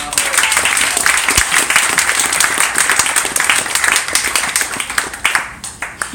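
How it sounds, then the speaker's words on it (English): Wedding guests break into applause during a brother's wedding speech, a dense wash of many hands clapping steadily before thinning out into scattered claps near the end. "Round of applause."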